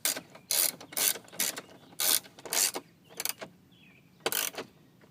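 A ratchet snugs 10mm bolts on a lower interior panel of a 2001-2004 Toyota Tacoma, several quick bursts of rapid clicking separated by pauses, close and clear with no speech.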